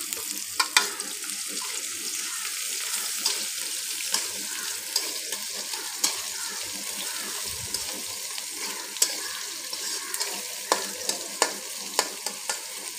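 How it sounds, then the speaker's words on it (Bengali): Sliced onions fry gently in oil in a pan for a spicy tilapia curry, giving a soft, continuous low sizzle with occasional faint clicks and scrapes. "পেঁয়াজটা ভাজার জন্য অপেক্ষা করছি।"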